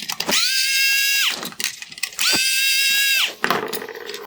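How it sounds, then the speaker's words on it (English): A power screwdriver backs T20 screws out of a Range Rover Xenon headlight projector bracket, with two loud whirring runs of about a second each and a shorter third burst at the end, close up with no talk. "I'm going to remove the 3 T20 screws holding the projector to the bracket"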